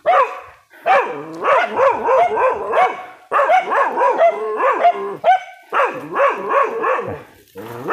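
A dog at a hillside forest village home barks fiercely and nearly nonstop, loud and close, in rapid bursts broken by a few short pauses, with no talking over it.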